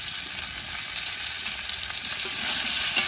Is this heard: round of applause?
no